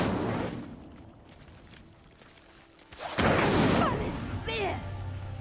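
An Incendio fire spell lighting a pyre in Hogwarts Legacy: after a quieter stretch, a sudden loud whoosh of flame bursts up and settles into a sustained roaring blaze, with a voice talking over parts of it.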